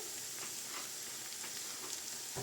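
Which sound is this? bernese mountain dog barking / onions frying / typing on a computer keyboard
onions frying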